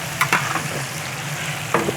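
Mustard seeds frying in hot oil with onion, garlic and green chilli, a steady close sizzle with a few sharp crackling pops and stirring clatter.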